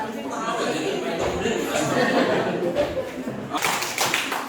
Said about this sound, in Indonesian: Sekali saja tepuk tangan ya, jangan berkali-kali